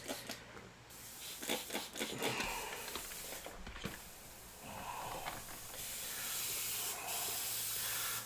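An airbrush sprays paint at high pressure, a faint, breathy hiss with intermittent bursts that settles into a steadier spray toward the end.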